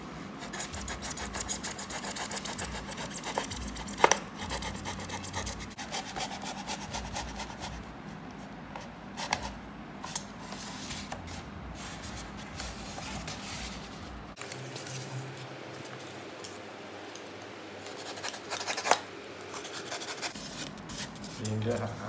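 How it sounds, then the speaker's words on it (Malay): Blade cutting and rubbing through the inner part of raft material for an aquaponics raft, a continuous scraping, rasping sound with irregular louder strokes, close by, lasting throughout. "Jadi kita potong bahagian dalam lebih kurang"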